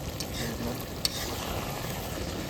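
Meat sautéing with spices in oil in a pot, a quiet continuous sizzle with a soft stirring scrape and one sharp knock partway through.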